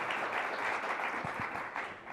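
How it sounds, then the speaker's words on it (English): Conference audience applauding to welcome a panel of speakers at a leadership event, a steady wash of many hands clapping at moderate volume in a hall. "Please join me with a warm round of applause to welcome our panelists today."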